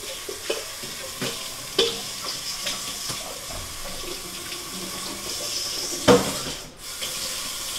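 Kitchen tap water runs steadily into a sink while broccoli is rinsed for a broccoli salad, with a constant splashing hiss, a few clunks and knocks of handling, and a brief louder gush near the end.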